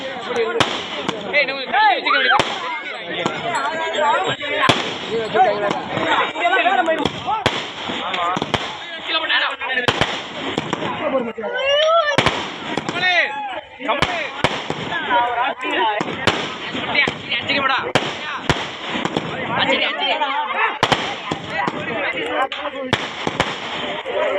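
Dense, continuous crackling and popping of firecrackers going off in rapid irregular bursts at a Mattu Pongal cattle festival, loud and close, with voices mixed in.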